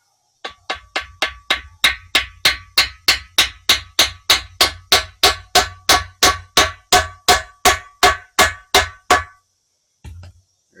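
A greased bushing is hammered into a Chevy C10 suspension part with about twenty-five loud, evenly spaced metallic blows in steady rhythm, then a pause and one final strike, with no talking.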